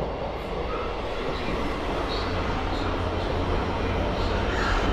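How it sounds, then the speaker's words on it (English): A train rolls through Basingstoke station on the South Western Main Line with a loud, continuous rumble and wheel noise that stays strong across the whole stretch, with no talking. "I'll say this is the last train for this video."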